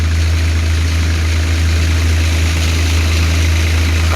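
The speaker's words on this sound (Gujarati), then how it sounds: "આ રીતના હાલે આપણું ઠેસર મિત્રો" A Shri Balaji thresher driven by a Swaraj 744 FE tractor runs steadily while threshing coriander, a loud continuous low engine drone with mechanical hum and no talk.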